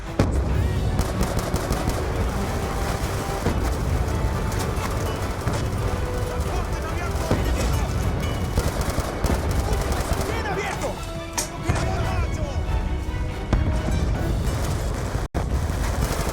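Continuous heavy gunfire in a Call of Duty Black Ops 2 campaign mission, dense overlapping automatic shots and explosions forming a loud, unbroken battle din with shouting voices mixed in.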